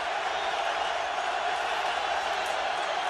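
Steady, dense roar of a football stadium crowd at an NFL game, Dallas Cowboys at Philadelphia Eagles in 2008, a continuous wash of cheering throughout with no breaks.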